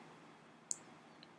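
A single sharp computer mouse click sounds close and clear over a quiet room hum, followed by a fainter second tick.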